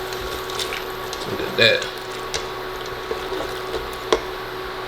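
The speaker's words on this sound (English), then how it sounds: "go ahead and slowly stir in your milk" Milk slowly stirred into sausage gravy in a pan, giving soft wet squishing and sloshing with a few small clinks, close by and fairly quiet, with a brief spoken remark over it.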